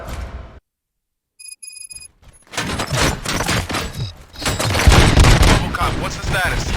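Sharp bursts of gunfire crackle amid loud, chaotic action and voices in the video game RoboCop: Rogue City, following a short electronic ringing tone.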